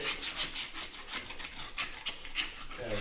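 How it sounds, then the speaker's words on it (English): A metal scraper drags along a wall, stripping old wallpaper glue in a renovation, making steady gritty rasping strokes that repeat close up with no talk. "I'm literally just running the scraper along the wall."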